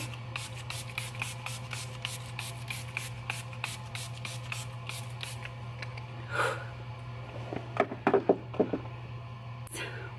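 A few quick misting bursts of a makeup setting spray bottle, with scattered clicks and taps around them over a steady low hum.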